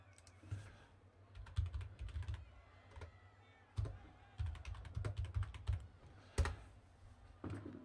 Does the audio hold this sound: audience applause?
no